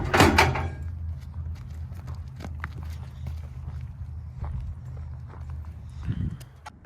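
Horse hooves clip-clop at a walking pace on hard ground as the horse is led toward a stock trailer, steady close footfalls with a brief louder clatter at the start and near the end, no voices.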